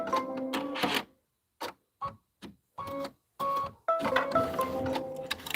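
A home sewing machine stitches down a quilted snowman pillow block, running in short bursts with pauses between, then a longer steady run of close mechanical whirring and ticking.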